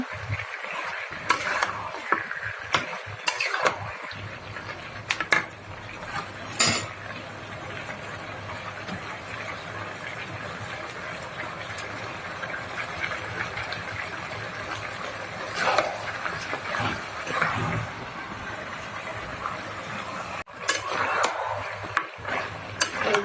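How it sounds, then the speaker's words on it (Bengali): Meat sizzles and fries in a pan while a spoon stirs and scrapes it, a steady crackling hiss with occasional clinks and knocks against the cookware, continuing throughout at moderate loudness. "আমি মাংসটা কষাই নিচ্ছি"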